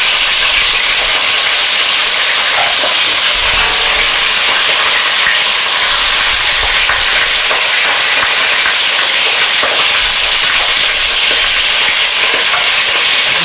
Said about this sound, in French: Alors je vais mettre à la sauteuse. Bien le faire revenir.